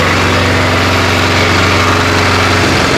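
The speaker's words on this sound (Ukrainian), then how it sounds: "Дуже добре працює дизельний двигун" A walk-behind tractor's diesel engine runs loud and close, thrumming at a steady idle with a dense, even low-pitched chug that holds unchanged throughout with no talk over it.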